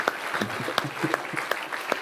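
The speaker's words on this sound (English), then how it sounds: "Round of applause for Matthew, please." Scattered applause from an awards ceremony audience, individual claps standing out as a light, uneven patter that thins out and never swells into a full ovation.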